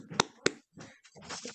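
Two sharp hand claps from a speaker at an awards event, spaced about a quarter second apart, followed by a pause and then murmuring crowd noise with talk in the background.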